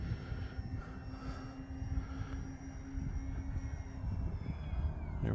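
An E-flite Beechcraft D18 RC airplane flies at half throttle over a grass field, its steady electric motor drone holding at a moderate distance with a slight rise in level toward the end.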